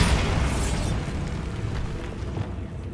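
A Bombarda spell explosion in the video game Hogwarts Legacy, a loud booming burst at the start that rumbles and fades over a few seconds, alone.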